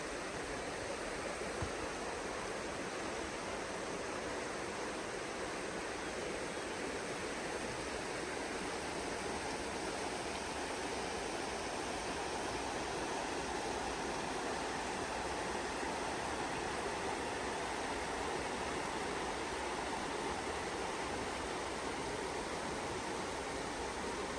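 Water in a stream along a hiking trail rushes steadily, a dense, broad, unbroken roar that stays close and constant the whole time, with no voices.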